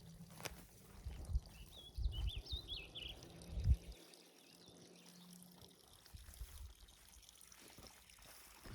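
A small waterfall at rising springs on a ranch trickles and pours faintly in the open outdoors, with a few soft bird chirps and low rumbling handling noise early on.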